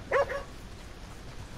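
A dog in the video game Red Dead Redemption 2, at a character's house, gives a couple of quick barks near the start, then fades behind low ambient game noise.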